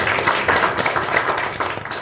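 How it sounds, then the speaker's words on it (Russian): An audience at a political debate event claps, a loud, close burst of many hands clapping steadily throughout. "Ваши аплодисменты."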